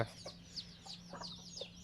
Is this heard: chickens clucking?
yes